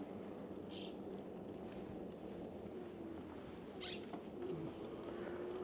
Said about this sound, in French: on les entend bien, les perruches